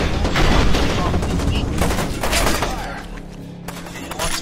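Rapid automatic gunfire and heavy thuds from a FEAR 2 firefight, dense and loud through most of the stretch, then easing toward the end with a few scattered hits.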